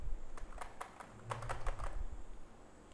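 A password being typed on a computer keyboard into the MySQL command line client on Windows: a quiet, irregular run of light key taps, close by, with no talking.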